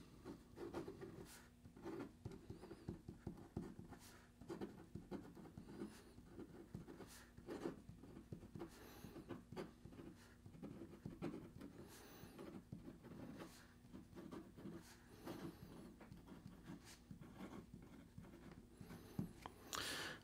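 A Hoverpen 3.0 fountain pen with a fine Schmidt nib writing on paper, giving close, faint, continuous scratchy strokes with short pauses between words.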